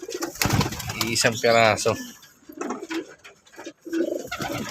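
Pigeons coo softly in a breeder's loft, with low burbling calls that come and go. Someone talks close by over them.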